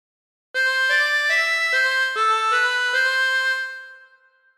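A harmonica plays the Waltzing Matilda melody as a string of sustained, reedy blown notes stepping up and down in a steady rhythm, close and alone, then trailing off.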